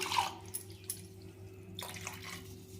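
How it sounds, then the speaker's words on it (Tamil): Water is poured into a bowl while making a no-oil, no-boil raw tamarind rasam in a home kitchen, with splashing and trickling bursts that start loud, thin out, then return. "தேவையான தண்ணி சேர்த்துக்கோங்க தேவையான தண்ணி சேர்த்தாச்சுங்க"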